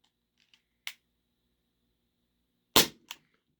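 Shots from a Ruger P345 airsoft pistol crack sharply and close by, a faint snap followed by two louder pops spaced about two seconds apart, each with a quick trailing click.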